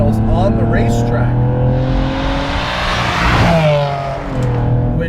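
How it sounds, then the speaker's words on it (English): A tuned Cadillac ATS-V with a turbocharged V6 on stock turbos revs loudly and close by, the engine note rising and falling over a few seconds while a person talks over it. "which says good things about the durability of the V6 engine underneath that extra boost"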